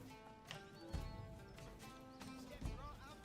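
Horse hooves clip-clopping with an occasional whinny in the Manor Lords video game, a few footfall thumps over a steady bed of game ambience and music.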